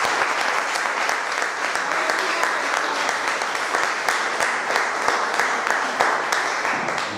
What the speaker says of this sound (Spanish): Denle fuerte palmas al Señor Jesús.